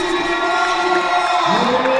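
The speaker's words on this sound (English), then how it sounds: "Listen to the crowd. St. Petersburg hyped up big time." A packed arena crowd in St. Petersburg roars and cheers during a 3x3 basketball game, a dense, sustained wall of voices with shouts rising above it and a few louder yells near the end.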